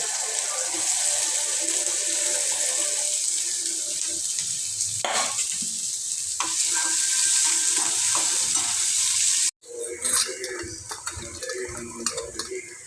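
Curry leaves and onion hitting hot oil with mustard seeds, a loud, close, continuous sizzle and hiss with stirring scrapes, briefly cut off and then resuming with spattering bursts; no talk.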